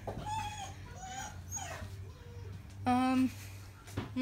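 Puppies whimpering and yipping in short high-pitched bursts, close by, with faint background noise.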